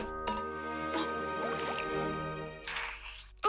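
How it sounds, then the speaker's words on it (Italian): Cartoon water pouring into a glass, a bubbly gurgling fill over soft musical background, ending in a brief splashy drip. "mi dai un po' d'acqua, per favore?"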